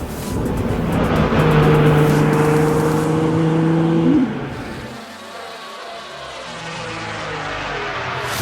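A lowered car drives through city streets, its engine droning with a steady low tone that rises slightly before easing off, then a quieter rumble with passing traffic noise continues to the end.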